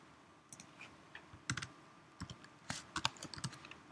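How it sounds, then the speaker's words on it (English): A patient's name being typed on a computer keyboard: quiet, irregular key clicks in short bursts, closer and denser toward the end, with no talking. "And so we have to type in their name"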